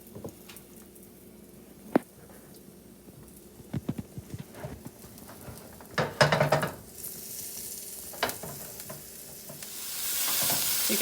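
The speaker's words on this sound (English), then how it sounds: "you're going to sear the beef one side until it develops a deep brown crust" Beef sears in a hot pan with a steady background sizzle, broken by scattered clatters and scraping handling noises, and the hiss grows louder and brighter toward the end.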